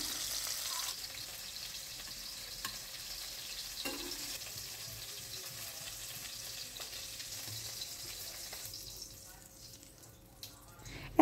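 Cauliflower florets deep-fried to a reddish brown in hot oil for an aloo fulkopir dalna, with a steady close sizzle and bubbling that thins and quiets near the end as the pieces are lifted out.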